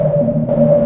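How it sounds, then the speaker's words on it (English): A breathy, bell-like tone from the OB-Xd synthesizer plugin, fed with noise, rings with a noisy hiss in its body, holding steady with a faint pulsing shimmer. "feed it some noise here and get these wonderful, noisy, breathy bell-type tones"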